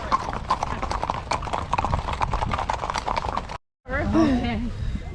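Rhythmic clip-clop of horses' hooves rings out steadily on a hard surface during a group ride, loud and close, followed after a brief gap by a horse's whinny.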